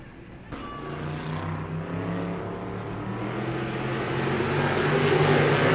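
Number 59 sprint car on a qualifying lap at Spoon River Speedway, 1996 Summer Nationals, engine roar building steadily louder as it approaches, with a sharp onset early and a continuous rising drone.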